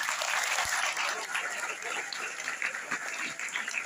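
Crowd at a Maulid Nabi religious gathering in a school clapping, a dense, continuous burst of applause, loud and close, with faint voices mixed in.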